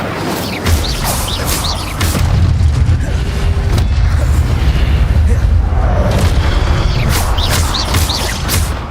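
The Incendio fire spell cast in Hogwarts Legacy erupts as a loud booming roar with crackling bursts, sustained for several seconds, mixed with game combat noise and a spoken voice.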